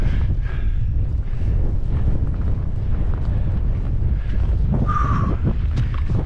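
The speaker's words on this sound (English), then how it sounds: "Windy again, man." Strong wind roaring across open hillside on the Pennine Way in the Yorkshire Dales, buffeting the microphone in a steady heavy rumble throughout.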